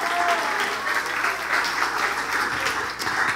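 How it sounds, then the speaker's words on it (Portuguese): A crowd claps for a group during a Portuguese-language event, sustained even applause from a large audience holding steady for several seconds, with a few scattered voices. "Palmas para a galera do Vasos GR"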